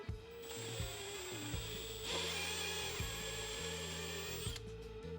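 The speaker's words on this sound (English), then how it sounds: "So we'll go ahead and drill this out" A power drill whines steadily as it bores out a hole on a turbocharged Chevrolet Silverado build, its pitch shifting with pressure and brief pauses between bursts.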